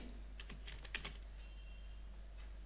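A few quick, faint keystrokes on a computer keyboard enter a number, short clicks over a steady low hum.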